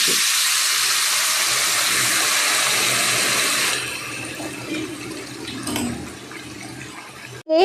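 Hot boiled water poured into a pan of frying rice for sweet Bengali pulao, a loud rushing hiss for about four seconds that then drops to a softer bubbling sizzle, ending with a brief clatter.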